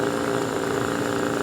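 Mercury two-stroke outboard engine idling, a steady close rumble with a continuous buzzing drone and no talking.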